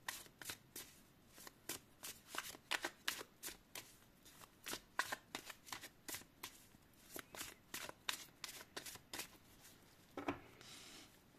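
A deck of oracle cards is shuffled repeatedly, with crisp riffling bursts in a quick, uneven rhythm for several seconds, close up and with no one speaking.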